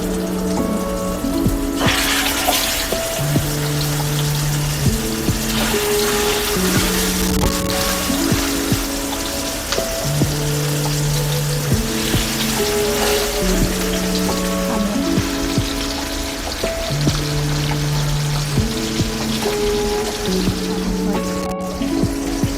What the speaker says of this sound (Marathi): लेग पीस फ्राय होत आहेत